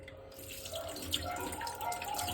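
Dishes being washed under a running kitchen tap, a steady close splash of water with small clinks and rattles, no voices.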